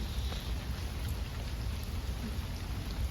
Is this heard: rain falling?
yes